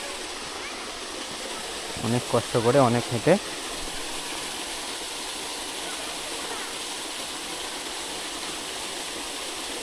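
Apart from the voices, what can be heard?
small waterfall splashing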